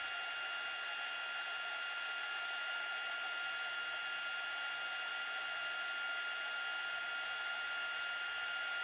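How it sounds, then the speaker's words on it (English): Heat gun blowing hot air to flow solder on large rhinestone grape earrings, a steady even whoosh with a whining hum that holds without a break at moderate level. "So I'll be using the heat gun to apply heat"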